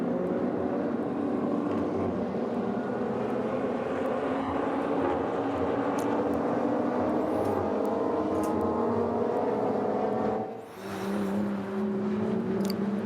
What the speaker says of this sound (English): we're just listening to the sounds of real engines, not digital, but real engines there, Bruce.